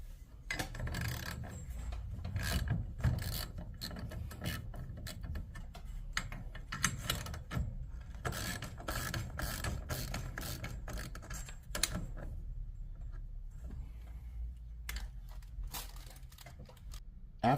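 Sparse metallic ticks and clicks of a 7/16 socket loosening the set screws on a garage door torsion spring cable drum, close and intermittent over low background noise.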